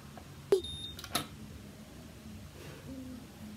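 A quiet room with a short electronic beep and a steady high tone from a Babyliss Pro Perfect Curl curling iron, followed by a couple of faint clicks and soft low hum.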